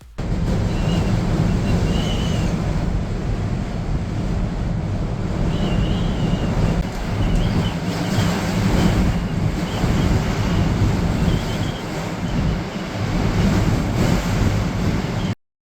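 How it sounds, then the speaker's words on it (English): Strong, steady wind roaring and buffeting a swaying cable car cabin on a foggy mountain ride in Hong Kong, a continuous loud broadband rush with gusty swells throughout and no talk. "weather became very windy and foggy, and the cabin kept shaking because of the strong winds"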